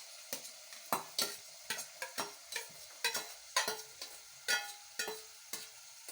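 Raw mango pieces lightly fried with prawns, heard as a steady sizzle broken by a dozen or so sharp spoon-against-pan scrapes and taps at an uneven stirring rhythm, close and fairly quiet, with no voices.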